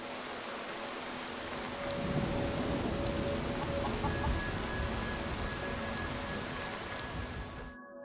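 Rain weather effects in Skyrim, a dense steady patter of falling rain that swells slightly partway through, with faint tonal hums in the background before cutting to silence at the end.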